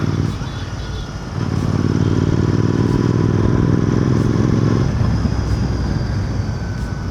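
A Royal Enfield GT 650 motorcycle out on the road, its engine a steady, close droning rumble with wind rush that swells louder after the first second and a half and holds there.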